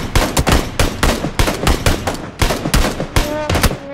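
Rapid automatic gunfire in PUBG, loud and close, with sharp repeated bursts of shots in an uneven rhythm across four seconds.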